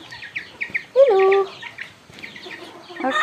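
Chickens cluck and squawk close by on a farm at feeding time, with one loud drawn-out call in the middle and softer chirps and clucks around it.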